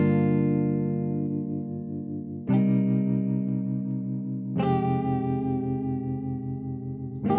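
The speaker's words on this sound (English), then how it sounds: "Let's hear this guitar sample in its initial state before applying the effects on it." A dry, unprocessed guitar sample plays three full, sustained chords. Each is struck at a steady interval and rings out loud and close, with no voices.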